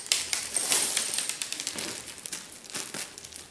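Plastic bag packaging crinkles and crackles close up while hands work on a bottle decorating craft, a quick run of sharp, irregular rustles and small snaps with no talking.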